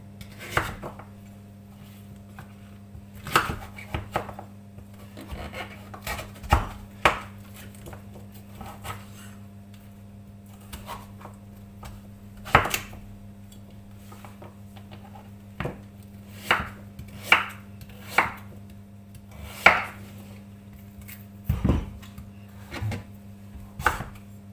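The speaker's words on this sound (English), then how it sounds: "I'm just going to chop this and chuck it in" Butternut squash being roughly chopped with a knife on a board: a long run of sharp, irregular knocks and thuds, fairly close, with brief pauses and a steady low hum in the background, no talking.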